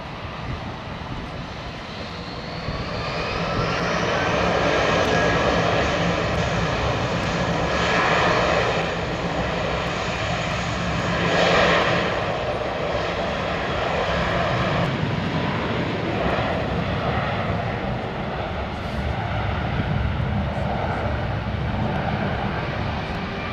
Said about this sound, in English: Pratt & Whitney PW4000s. These things can make a right old racket,